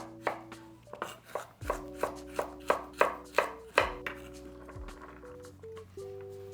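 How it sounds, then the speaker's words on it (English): A knife dicing carrots on a cutting board gives a quick series of about a dozen crisp, evenly spaced chops, each one close and distinct, while soft background music plays. "I'm just gonna wanna dice these"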